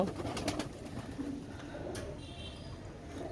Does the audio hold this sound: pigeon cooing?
yes